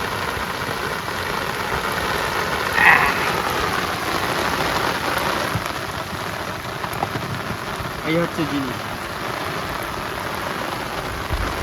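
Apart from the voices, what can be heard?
heavy rain with thunder on a Sundarbans river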